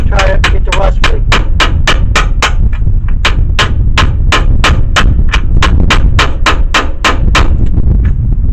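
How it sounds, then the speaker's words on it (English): A hammer taps on a rusty upper A-arm of a 1994 Chevrolet S10 truck, making about twenty loud, sharp, evenly spaced metallic knocks in a steady rhythm, close up and alone. "I'm going to just tap on the part that's holding it, just see if it's going."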